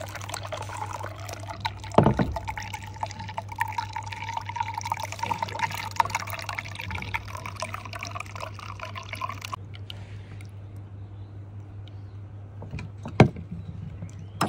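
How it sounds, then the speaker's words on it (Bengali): Homemade bael fruit juice strained through a strainer, a close, steady trickling and pouring of liquid over a low hum, with a couple of sharp knocks and the flow stopping near the end. "তোমার জগের জুস বানিয়ে নিয়েছি, তো এবার আমি ছেঁকে নেব।"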